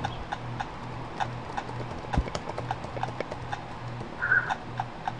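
Evenly spaced hollow clops from the horse's hooves in the game Clop, steady and near over a low hum, with a slightly heavier thump partway through and no speech.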